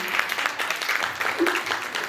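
Guests at a Dohale jevan ceremony give a steady round of applause, a dense, even patter of clapping that lasts about two seconds with a faint voice mixed in.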